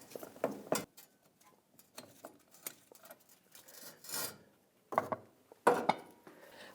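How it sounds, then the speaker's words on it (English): Removing a bolt from the shaft of a 1998–2011 Ford Ranger 3.0L V6, with irregular close metallic scrapes, clicks and ratchet-like rasps separated by short pauses. "Now I can support the shaft and take that bolt out."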